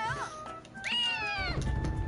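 A cat in Naruto Ultimate Ninja Storm gives a short meow and then a longer, rising-and-falling meow, clear and close, over faint game background noise.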